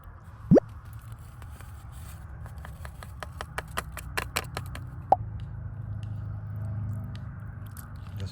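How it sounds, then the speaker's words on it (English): A Dollar Tree food mix is stirred in a bowl, with a run of quick, evenly spaced clicks and soft wet taps up close over a low background hum, plus a couple of louder knocks. "I guess you just want to stir it and then pour in the mix"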